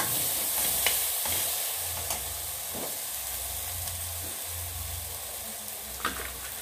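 Shahi bharta being stirred in a hot pan, a steady low sizzle with soft scraping strokes repeating through the mix, close and continuous with no voices.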